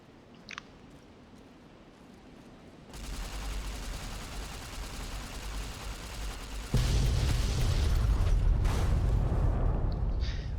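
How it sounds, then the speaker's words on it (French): Warheads exploding in Fallout: New Vegas, a sudden loud burst of dense crackling noise that steps up again into an even louder, sustained roar with a deep low rumble, continuing to the end without speech. "Vous avez fait exploser des ogives de l'aile de partage."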